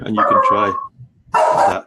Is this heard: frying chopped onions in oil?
no